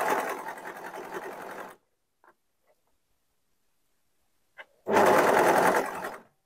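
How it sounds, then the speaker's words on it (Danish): A sewing machine stitches a top from the sleeve toward the neckline, running in two steady, loud, rapid bursts separated by near silence with a few faint clicks. "Så jeg syr den altså fra ærmesiden og ind mod halsen."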